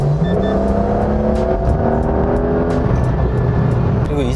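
Porsche 911 GTS with the enlarged 3.6-litre engine, sport exhaust open in sport mode, hums steadily from inside the car on a public road, a close, continuous drone with slowly rising engine tones and no speech.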